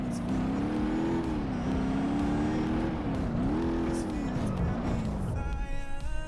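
In the game BeamNG.drive, a vehicle rolls down a ski jump, its engine droning loudly and steadily with wavering pitch rising and falling throughout, ending with a brief change in tone.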